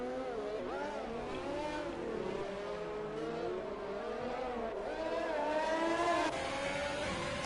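A Ferrari racing car at Monaco in a racing game screams at high revs, its engine pitch sweeping up and down through gear changes as it accelerates, loud and continuous with other cars faintly around it.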